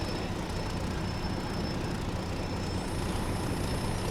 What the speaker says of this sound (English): Only bad thing about these old locomotives is it takes so long to release the brakes